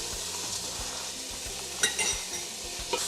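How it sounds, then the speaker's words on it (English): Minced garlic sizzles with soft, translucent onions in a pot, a steady frying hiss broken by a few utensil scrapes and clinks as it is stirred for a curried red lentil soup. "We're going to go ahead and add 1 teaspoon of minced garlic"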